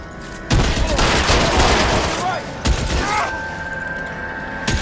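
Rapid bursts of gunfire fill an L.A. Noire shootout, two loud volleys of overlapping shots with brief gaps and a lighter tail, while game characters shout over the firing.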